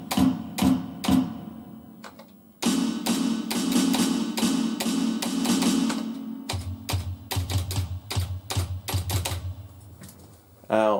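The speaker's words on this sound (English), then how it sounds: "Tom-tom." Tom-tom hits from a PCM rock drum kit on an MSX MIDI-PAC2 sound module, played as a quick series of sharp, punchy strikes with ringing low tones, some in rapid runs, loud and close.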